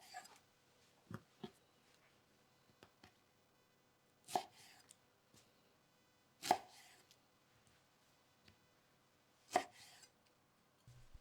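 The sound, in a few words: knife slicing white onion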